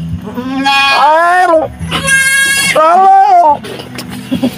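A goat with a kid nearby bleats three times in long, wavering, loud calls close by, with people talking between and over the cries.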